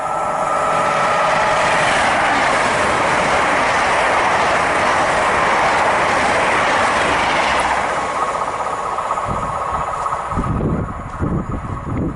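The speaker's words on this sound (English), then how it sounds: "we have an LNER service from London King's Cross to Edinburgh Waverley. This is 801 230." An LNER Class 801 unit 801 230 on a London King's Cross to Edinburgh Waverley service roars past at Grantham on the East Coast Main Line, a loud sustained rush of wheels and air that eases off near the end.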